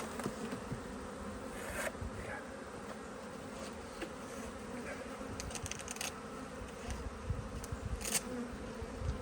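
A swarm of honeybees being collected into a box fills the air with a steady, close, dense buzz, with sharper bursts as individual bees fly near.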